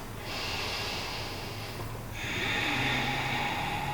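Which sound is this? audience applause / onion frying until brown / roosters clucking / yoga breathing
yoga breathing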